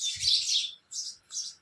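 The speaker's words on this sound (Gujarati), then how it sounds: "આ ચકલી બેન શું કહે?" A sparrow in a Gujarat village gives three short, close chirps in quick succession, heard alone against quiet surroundings.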